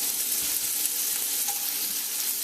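Chopped onion sizzles in hot vegetable oil in a pan for a curry pigeon peas dish, a steady, close, unbroken frying hiss with light crackle and no talking.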